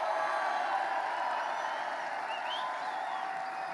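A large rally crowd at a law enforcement event in New York claps and cheers in a steady, dense wash of applause that holds at a loud level throughout, with no speech over it.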